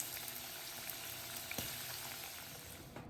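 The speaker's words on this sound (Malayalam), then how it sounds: "നമുക്ക് അടുത്ത സെറ്റും കൂടെ ഇതുപോലെ ഇട്ട് കൊടുത്ത് 2-3 മിനിറ്റ്സ് കൊണ്ട് അതിനെ ഫ്രൈ ചെയ്തെടുക്കാം" Dynamite shrimp sizzle steadily as they deep fry in oil, a faint, continuous bubbling crackle with a few small pops and no voices.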